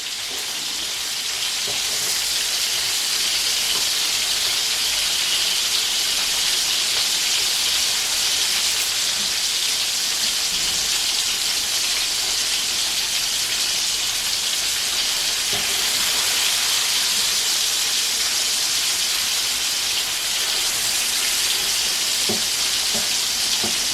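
Peppers, green beans and onions sizzle loudly in a paella pan after prawns have been browned, producing a dense, constant frying hiss that holds steady throughout with faint stirring underneath.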